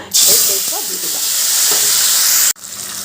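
Tomato, ginger and green chilli paste hits hot oil in a pan, bursting into a loud, steady sizzle that holds for a couple of seconds before cutting off abruptly, with a few stirring clicks near the start.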